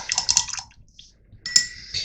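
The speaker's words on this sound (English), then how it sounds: "I've just emptied my spray bottle" Water emptied from a spray bottle into a jar at a craft table gives two short bursts of splashing and trickling, close and moderately loud, separated by a quiet gap.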